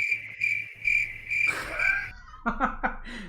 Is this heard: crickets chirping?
yes